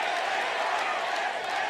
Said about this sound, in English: The crowd letting their desires be known.